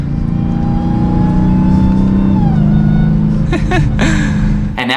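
Supercharged Dodge SRT Hellcat V8 under acceleration, a loud, close engine roar with a rising high-pitched supercharger whine layered over the rumble, pitch climbing and then shifting as the engine revs.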